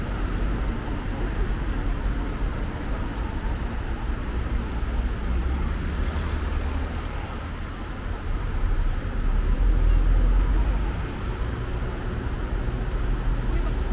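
Traffic on Stockholm's busiest city street on a rainy day, a continuous low rumble of passing cars and buses that swells around a loud nearby vehicle, with a voice speaking at times.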